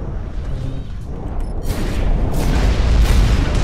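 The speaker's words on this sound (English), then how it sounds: "you're locking onto people and like constantly just like harassing them with missiles" Heavy missile explosions in the mech combat game Hawken, a rumbling boom building and rolling on loudly through the second half, with sharp bursts layered over a dense low roar.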